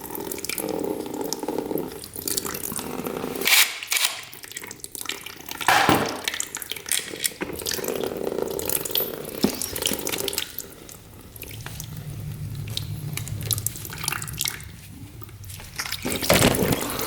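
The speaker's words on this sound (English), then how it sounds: "let's get this coolant drained first" Coolant drains from a Honda dirt bike engine as a steady trickle and splash of liquid, rising and falling in flow with occasional clatter, and no talk over it.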